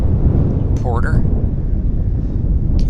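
Loud low rumble of strong wind battering the microphone at an airport, with a brief voice and a short tonal sweep cutting through midway.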